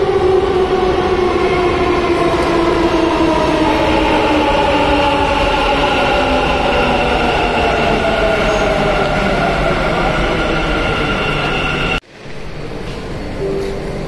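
A Bangalore metro train roars loudly and steadily at a station, its motor whine rising in pitch as it runs, then cuts off abruptly into quieter station noise.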